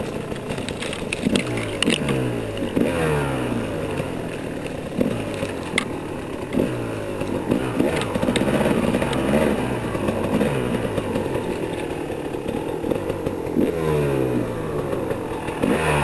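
Steady close engine drone of a Kawasaki KLX dirt bike riding down a steep snowy hill, with frequent short revving bursts and throttle changes and some rattling, no speech.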